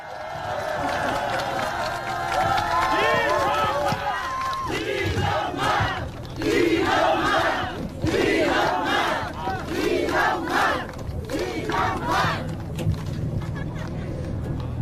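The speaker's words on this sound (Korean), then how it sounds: "박수와 함성!" An election campaign rally crowd at a lakeside park in Cheonan applauding and cheering loudly for a candidate, sustained roaring shouts and clapping that swell in waves, with an amplified voice heard at the start.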